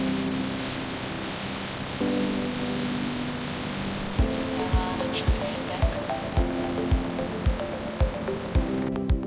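Pressure washer spraying water to rinse a huge ACCO Super Bulldozer, a constant loud hiss of spray with a droning hum and steady rhythmic thumps in the second half.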